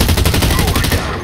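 Rapid automatic gunfire from a futuristic shooter, Blacklight Retribution, rattles loud and close in a dense continuous burst of shots for about a second before cutting off.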